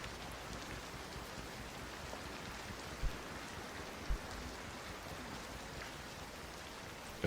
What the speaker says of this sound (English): the rain is loud.